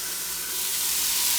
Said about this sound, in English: right now I'm just cooking up the onion and ginger